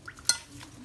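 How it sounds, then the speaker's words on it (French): A spoon stirs a honey and salt mixture in a bowl, a quiet scrape with one sharp clink of utensil against the dish, brief and close. "un tout petit peu de sel. Et je vais bien mélanger."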